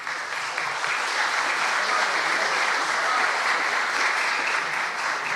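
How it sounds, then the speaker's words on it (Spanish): Steady, dense applause from a conference audience at a presentation on the Lima and Callao Metro Line 2 project, sustained clapping filling the room at an even level throughout. "Vamos a brindarles un muy fuerte aplauso a ellos,"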